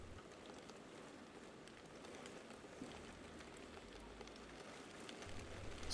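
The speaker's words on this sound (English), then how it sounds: "It's raining today." A soft, steady patter of rain falls throughout, faint and even.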